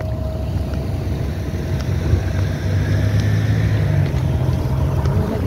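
Steady low engine rumble of a roll-on roll-off ferry under way at sea, with constant wind and water wash around it, no voices.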